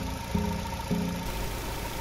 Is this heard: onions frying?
no